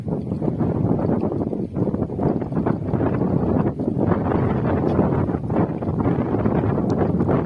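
A loud, continuous low rumble with roaring, wind-buffeted noise, like a train engine thundering through a long railway tunnel in Indonesia close by.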